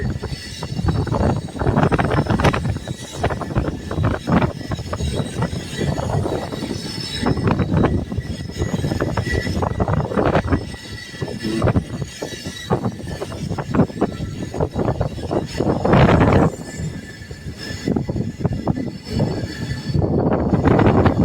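HimSagar Express passenger train rounding a curve on its run from Kanyakumari, a loud continuous rumble of rail cars with clattering wheels and bursts of wheel squeal, steady and close throughout.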